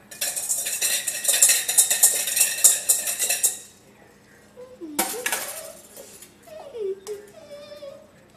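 Utensils mixing and stirring food in a dish, rapid clinking and scraping for several seconds, then a sharp knock and scattered softer sounds with a voice.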